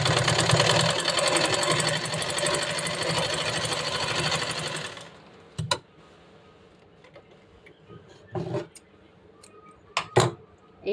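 Sewing machine stitching a simple kurti, running steadily and fairly loud for about five seconds, then stopping and leaving only a few short clicks and handling thumps.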